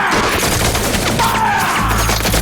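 Rifles of a firing squad fire together in a single loud, close volley, leaving a dense burst of sound that hangs briefly before fading.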